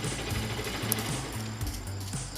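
A Rouser RS200 motorcycle engine idles just after starting on a new battery, giving a steady, rapid, chugging putter that stays loud and close and runs on with no talk over it.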